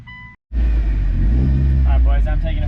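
Mitsubishi Evo wagon with a 2.3 stroker engine starts rumbling loudly after a brief near-silent gap, running steadily up close with a deep, continuous drone while people talk over it.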